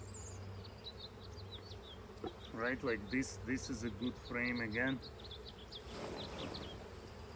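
Honey bees buzzing around open frames while a hive split is made to prevent swarming, a constant close drone of many insects, with someone talking briefly over it midway.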